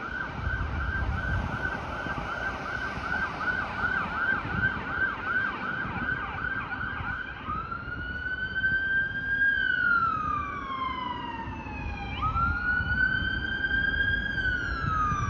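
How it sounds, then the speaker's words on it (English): A Toronto Fire emergency vehicle siren wailing through a city street, loud and close, shifting from a steady wail to sweeping up-and-down yelps as it passes, over traffic rumble. "I think that's a fire truck."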